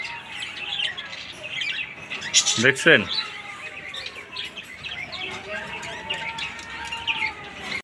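A caged female Australian dove gives sharp squawking calls and chirps at close range, with someone talking over the birds throughout.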